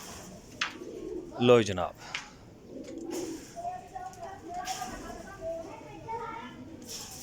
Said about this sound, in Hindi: बहुत ही अला क्वालिटी का जनाब लाखा कबूतर है, शानदार किस्म का।